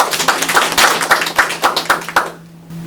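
Small group clapping on a Korean talk-show panel about AI creations, a short burst of distinct, fairly loud hand claps in an uneven rhythm that stops suddenly.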